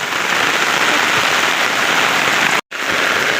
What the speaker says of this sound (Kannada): ಎಷ್ಟು ಜೋರು ಮಳೆ ಬರ್ತಿದೆ